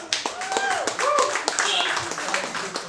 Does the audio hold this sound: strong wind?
no